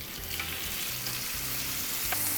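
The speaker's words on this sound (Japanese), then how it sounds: "しっかり強火でジューッと音が鳴ってるのが、これぐらいの薄めのお肉を焼くときはポイントです。" Thin supermarket steak, patted dry, sizzles hard over high heat in an oiled frying pan, an even hiss and crackle close by that stays constant throughout the short stretch.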